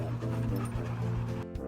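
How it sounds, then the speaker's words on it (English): A dog barks and whimpers in short yips, with a low steady hum beneath, fairly quiet and close. "What are you barking about?"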